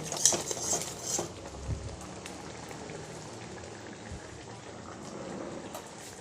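Okra chutney bubbles in a pan as a spoon clinks and scrapes through it, with a few sharp metallic taps early and then a soft, steady simmering patter.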